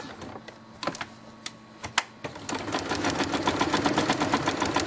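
A sewing machine stitching a dollhouse-size quilt starts with a few separate clicks and thumps, then settles into a rapid, steady run of close stitching taps.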